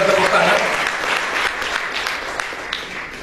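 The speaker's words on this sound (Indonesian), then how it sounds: "Berikan aplaus, berikan tepuk tangan." A church congregation applauds to welcome visiting guests, a loud, dense burst of clapping that fades slightly toward the end, with a voice briefly audible at the start.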